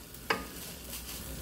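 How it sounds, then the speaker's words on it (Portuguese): Chicken and palm heart filling for a blender pie being sautéed in a pan: one sharp utensil knock, then a soft continuous sizzle and stirring noise, close and without voices. "Então, vou refogar esse aqui."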